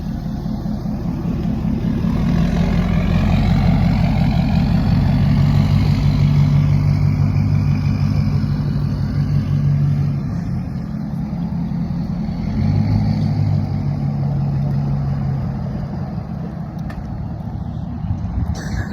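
A pickup truck engine on 32-inch wheels rumbles steadily up close, rising and falling as a turbo whine spools up over the low drone.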